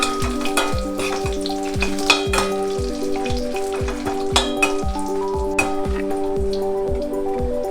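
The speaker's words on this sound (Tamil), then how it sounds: "போட்டுட்டு நம்ம கொஞ்சம் ஃப்ரை பண்ணிக்கலாம்." Small round chillies frying in hot oil, a steady close crackle and sizzle with sharp popping spits, under a repeating rhythmic tonal pattern in the background.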